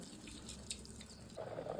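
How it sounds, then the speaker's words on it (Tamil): Water runs into a pot of rice and moong dal, a soft steady trickle that swells into a fuller stream toward the end, close and fairly quiet with no voices. "தண்ணி ஊற்றிக்கலாம்."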